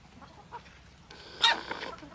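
A pet hen with a cold makes faint, soft clucks, then a louder raspy squawking burst near the end, recorded close in a quiet outdoor setting.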